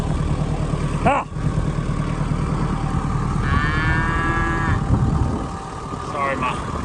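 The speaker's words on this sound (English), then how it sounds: "Oh, cows." Cows on a farm in an Appalachian blizzard let out a few moos, one short call and then a longer, louder low one, over steady wind and rumble.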